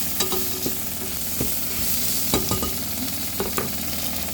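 Shrimp and scallops fry in a thin pan, giving a steady, dense sizzle with scattered sharp scrapes and clicks of stirring throughout and no talking.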